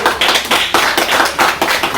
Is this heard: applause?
yes